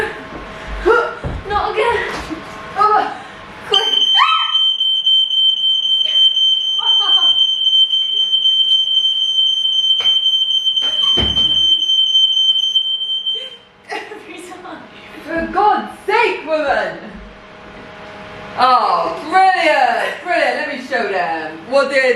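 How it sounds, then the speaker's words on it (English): A home smoke alarm, set off while gluten-free gingerbread bakes, shrieks in one loud, piercing, unbroken high tone for about ten seconds. Excited talk and laughter come before and after it. "Our alarm's definitely gonna go off."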